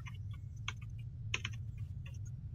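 Keys clatter on a computer keyboard while a console command is entered to set up the portal gun in Garry's Mod, with short bursts of close, crisp clicks over a low steady hum.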